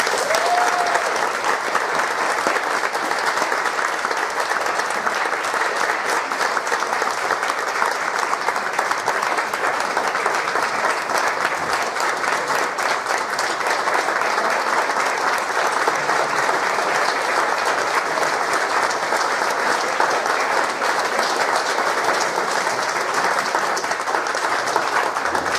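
An audience at a hall of honor and awards ceremony claps in sustained, dense applause that holds steady and loud for the whole stretch, with no break.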